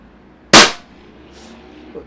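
A Tiberius T8.1 high-power pistol fires a single sharp, loud crack as it launches a 4 g rubber ball, followed by a brief decay and a faint soft thud.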